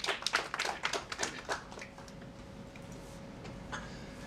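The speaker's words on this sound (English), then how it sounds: "I'd like you all to please welcome him with a big round of applause." At an investor book-reading event in Kolkata, a small audience claps in a brief, sparse burst of individual hand claps that fades after a couple of seconds into quiet room tone.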